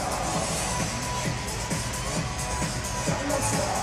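Steady stadium crowd noise during an arena football game between the Arizona Rattlers and San Diego Strike Force, a broad roar with murmuring voices and light cheering, dense and continuous throughout.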